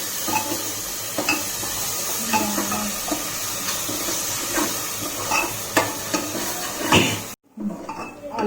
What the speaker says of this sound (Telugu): ఈ అల్లం వెల్లుల్లి పేస్ట్ పచ్చి వాసన పోయే వరకు ఫ్రై చేయండి.